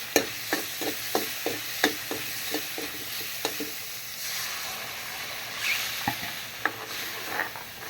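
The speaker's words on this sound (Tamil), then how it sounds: "பூசணிக்காய் மோர் குழம்பு அப்படியே விட்டுறக்கூடாது, இப்படி கிண்டி விடணும்" Pumpkin buttermilk curry (mor kuzhambu) in a pan cooked with coconut oil, stirred with a spoon that knocks against the pan in a regular series of clear taps over a soft sizzle, the taps thinning out later.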